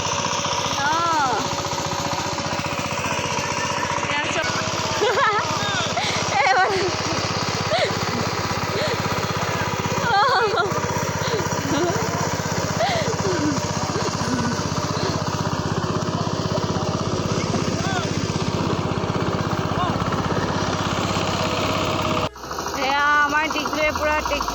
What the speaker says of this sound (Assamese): পূৰা ট্ৰেক্টৰ বাইছে মাটি